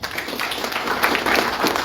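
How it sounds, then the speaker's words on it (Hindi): Audience applause fills a DXN business meeting at a hotel in Dammam, Saudi Arabia: a dense, steady wash of many hands clapping close by, holding even for about two seconds with slight swells. "हमारे भुवन सर के लिए ताली हो जाए।"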